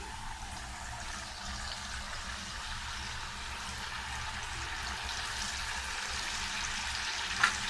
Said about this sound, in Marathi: तेल तापलेलं आहे आणि आपण एक एक बिरडी आता सोडून घेऊया आतमध्ये.